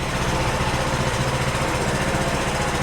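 A mini bike engine runs continuously at a steady idle, left going until its fuel runs out; its loud, even drone stays constant with no voices over it.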